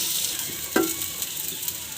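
Potatoes fry in a pan for a potato fry dish. A continuous sizzle is broken by one sharp stirring scrape or clink, followed by light stirring noises, close by and with no talk.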